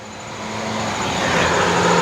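A tractor engine runs during unloading, a loud steady rumble that swells gradually louder, heard close with no talk.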